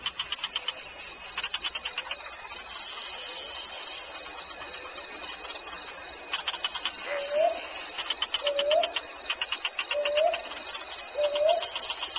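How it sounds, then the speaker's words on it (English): Dawn chorus on Mount Kinabalu, Borneo: rapid trilling calls that may come from frogs or birds repeat in bursts over a steady background, with regular upward-sweeping whistled notes recurring every second or so. "Dawn, and the nightly chanting of frogs gives way to a different chorus."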